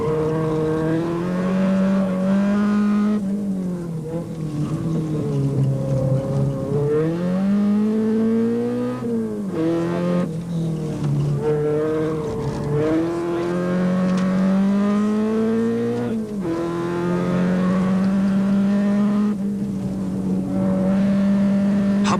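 Volkswagen Golf GTI rally car driving hard on a 1990 rally stage, its engine loud and close throughout, rising and falling in pitch as it revs through gear changes, with no talk over it.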